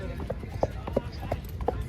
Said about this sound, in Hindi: ट्रॉट बहुत अच्छा है घोड़े का, ट्रॉट पैर बहुत अच्छे ढंग से उठा रहा है